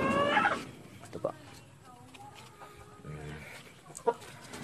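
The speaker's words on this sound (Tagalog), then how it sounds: "Ito naman po ang ating kulungan ng mga sisiw." Chickens cluck in a coop for chicks in a poultry yard, short scattered calls near and at moderate volume under a voice.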